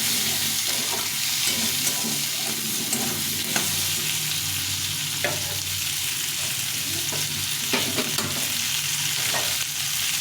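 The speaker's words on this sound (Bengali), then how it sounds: "আলু আর পেঁয়াজটাকে একসঙ্গে ভেজে নেব" Potatoes and onions sizzling steadily in a pan as they fry, with soft scraping and clinks of a spoon stirring them throughout.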